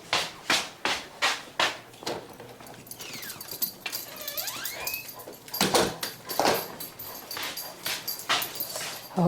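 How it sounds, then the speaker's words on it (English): Dog named Cinnamon barking to be let back inside, a close, loud series of sharp rhythmic barks with whining yips in the middle, then more barking; no talk. "My dog's barking."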